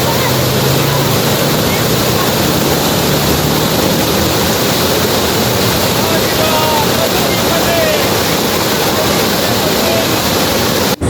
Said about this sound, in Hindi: मुझे तो ये वाटरफॉल इतनी अच्छी लगी